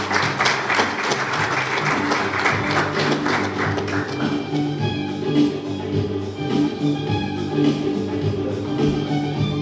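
Audience applause greeting a competitor called to the podium at an award event, dense clapping that stays loud throughout and thins slightly toward the end.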